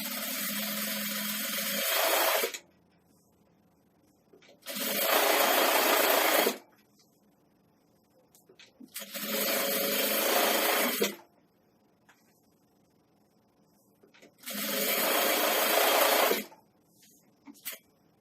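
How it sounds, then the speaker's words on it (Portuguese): A sewing machine stitches around the edge of a fabric nursing pillow in four separate runs of a couple of seconds each, a loud close whirring hum broken by quiet pauses between bursts. "Agora, eu vou continuar minha costura em toda a volta da almofada."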